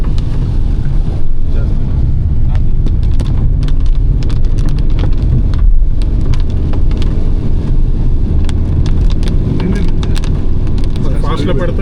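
Steady heavy rain drums on a car during a drive from Mysore to Ooty, blending with engine and road roar into a dense, loud wash. A voice speaks over it at times.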